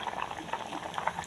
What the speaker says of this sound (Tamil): இப்போ பாருங்கள் நல்லா பொலன்னு கொதிச்சு வருது பாருங்கள்.